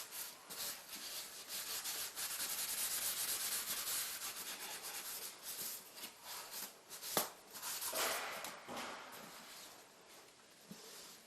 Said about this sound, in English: Take your sponge and scrub it off.